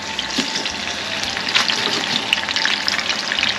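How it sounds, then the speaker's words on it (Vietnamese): Fish frying in a pan gives a steady, close crackling sizzle with dense spitting pops throughout, heard alone with no voices. "Bắt chảo lên mình chiên cá nè"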